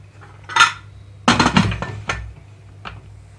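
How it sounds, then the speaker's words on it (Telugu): A bowl is set into a pressure cooker holding water while curd rice is prepared. A single clink is followed by a cluster of loud metallic clanks and knocks, then one faint tap near the end. "ఈ గిన్నెని ఇందులోకి పెట్టుకుంటున్నాను"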